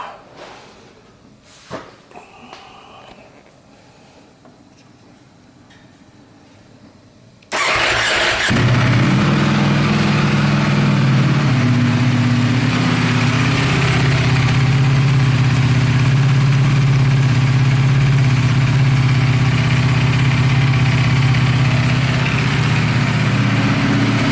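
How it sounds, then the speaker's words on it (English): A 2019 Ducati Panigale V4 motorcycle engine cranks and fires after a few quiet handling sounds, then settles into a loud, steady, close idle that holds for the rest of the recording. "let's start her up"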